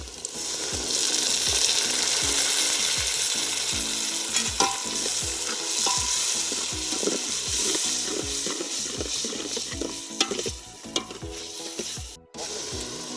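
Chopped tomatoes sizzling loudly in hot oil with peanuts for a dry potato dish, a dense continuous crackle punctuated by rhythmic spoon stirring and scraping against the pan, close and without talk.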